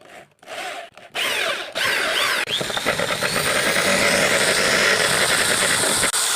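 Power drill whirs in short starts, then runs in a sustained high whine as it bores through a plastic drink bottle cap.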